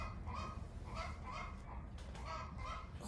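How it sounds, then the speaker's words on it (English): Hens clucking and cackling in a celebratory egg-laying chorus, a steady flock sound with repeated bursts of calls over a constant background, no talking. "Someone laid an egg and they're celebrating."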